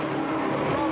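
V8 ute race cars at the Townsville round lock up under hard braking into a corner, a dense, continuous roar of engines and tyre noise packed close together for about a second.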